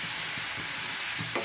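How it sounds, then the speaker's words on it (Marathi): Bottle gourd coated in masala fries in oil in a pan, a steady soft sizzle with a few faint stirring scrapes, close and alone. "याला छान आहे ना असं शेकून घ्यायचं आहे तेलामध्ये"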